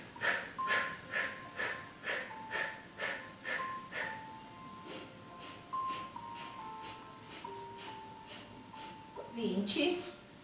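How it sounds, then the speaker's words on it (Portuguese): During a yoga exercise session, breath-of-fire breathing gives a steady run of short, forceful nasal exhalations, about two per second, close and rhythmic. Softer, more irregular breaths follow, over faint tonal background sound. "Respiração curta e forte. Respiração do fogo."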